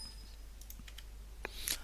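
A computer keyboard gets a few faint, scattered clicks and taps in a quiet room, with one slightly louder key press near the end.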